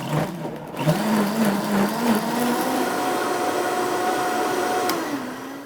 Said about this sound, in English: you're going to blend until it's nice and smooth